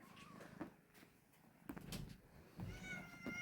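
A faint cat meows a few times, soft and distant, with light clattering noises in between.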